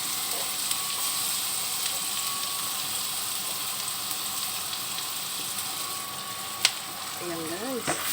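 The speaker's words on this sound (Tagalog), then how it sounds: "pwede natin ilagay yung sibuyas at saka bawang" Onion and garlic sautéing in butter for a Filipino chicken pastel make a steady, close sizzle that runs unbroken throughout, with a brief utensil tap near the end and a short burst of speech just after.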